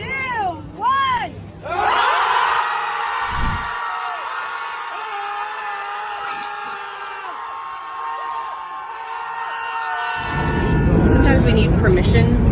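A group of people screams together in a sustained, loud shared yell lasting several seconds, rising then holding before breaking into looser shouts and cheering; a few voices are heard briefly beforehand.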